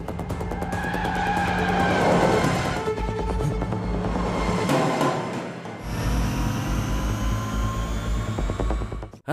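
A car accelerating hard in a film scene, engine roaring and rising in pitch with tire squeal, loud and close, the revving surging twice over roughly nine seconds with dramatic background score.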